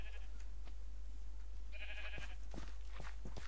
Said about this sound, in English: What is up with that sheep?